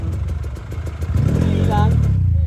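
KTM enduro motorcycles rev hard on a trail, engines climbing and roaring close by with rising pitch and clattering mechanical noise, while voices talk over the din.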